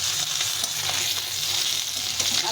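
Fish pieces frying in oil in a pan, a loud, continuous, dense sizzle and crackle with no voices.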